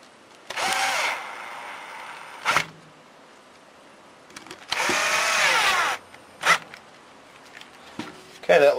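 Power drill driving screws to tighten a Phlatprinter 3 build assembly together: two whirring bursts of about a second each, separated and followed by short clicks and handling noises, close and loud.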